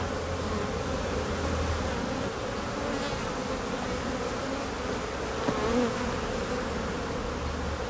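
Honey bees swarm and buzz around a brood frame lifted out during a hive inspection, a dense, steady hum that stays even and close throughout with no voices.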